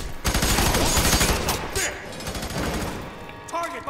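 A loud, sustained burst of rapid automatic gunfire in the video game F.E.A.R. 3 fills the first half, followed by scattered shots and game effects that trail off at the end.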